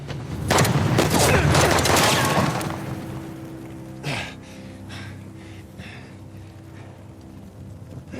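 Gunfire in the Uncharted: The Lost Legacy video game, a dense burst of loud shots over a couple of seconds, then a single heavier boom followed by quieter scuffling and game ambience.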